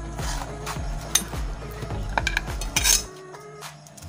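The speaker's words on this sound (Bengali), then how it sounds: "তার এই 3টা স্ক্রু প্রথমে খুলে নিতে হবে।" A screwdriver loosens the screws on a mixer grinder jar, producing repeated close metallic creaks and squeaks in a steady turning rhythm, with faint clinks of metal parts.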